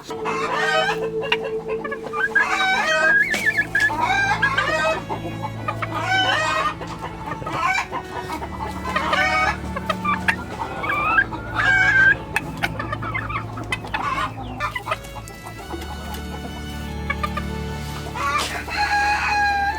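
Gurk chickens cluck busily throughout, with roosters crowing several times over the flock's chatter, close by and fairly loud.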